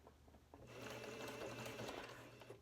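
A sewing machine stitches across fabric for a dog diaper, a steady mechanical whir that starts after a brief quiet moment and runs continuously and close for about two seconds, with no talking.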